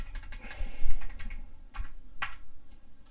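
Close, quick typing on a computer keyboard, with a rapid irregular patter of key clicks and one sharper keystroke near the end, heard alone without talk.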